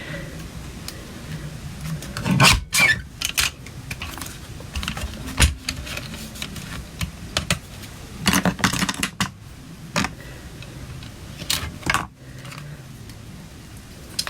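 Paper being trimmed for a handmade star-themed greeting card, with several sharp cutting and rustling bursts at intervals amid quiet crafting handling noises, close and moderately loud, with a voice speaking briefly in places.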